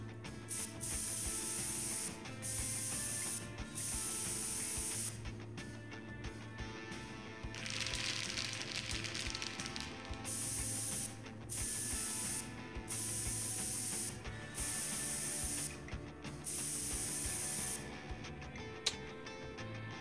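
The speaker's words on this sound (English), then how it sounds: "Hold the spray down too long and you have to shake the can." A spray can hisses in repeated bursts of a few seconds each in the video game Prison Simulator, with short pauses between sprays and faint rubbing and clicking sounds.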